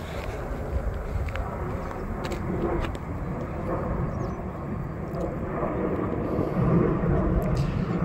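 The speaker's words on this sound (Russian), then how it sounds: "Эх, самолетик, куда ж ты летишь?" A low, steady rumble of an airplane passing overhead fills the whole stretch, broad and continuous with no voices.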